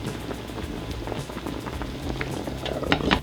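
Vegan filet mignon cooking in marinade in a covered skillet over high heat, a close, busy bubbling and crackling that grows livelier toward the end, with no talking.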